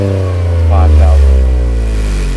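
Toyota GR Corolla fitted with an MST downpipe, its engine revved to about 5,000 rpm: a loud, close drone that rises and swells to a peak before easing back, with some talking under it.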